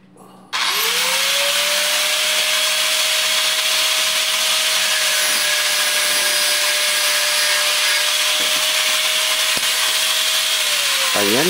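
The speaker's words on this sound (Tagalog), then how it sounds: "puputulan na ng grinder uli" An angle grinder cuts through a pipe for a DIY temporary shower. The motor spins up sharply and then holds a loud, steady, high whine right at the microphone for about eleven seconds before slowing at the end.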